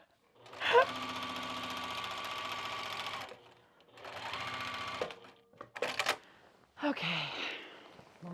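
Sewing machine stitches quilting lines across a pair of kite pants in two steady buzzing runs of a few seconds each, close and fairly quiet, followed by handling clatter and a short voice.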